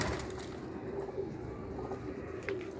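Pigeons coo in soft, low, rumbling calls close by inside a cage, over a dense background of fluttering and shuffling.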